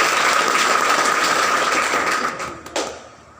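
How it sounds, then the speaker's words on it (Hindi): A school audience at Shiva Public School claps to welcome the singer Thanu, dense and lively applause that holds strong before thinning out into a few scattered claps and quiet. "तालियां बजा करके स्वागत करना।"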